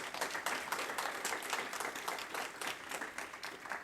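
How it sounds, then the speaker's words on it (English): An audience applauds at a university welcome event for a new athletics director, a dense, fairly distant patter of many hands clapping steadily throughout. "Let's give Rebecca a huge round of applause."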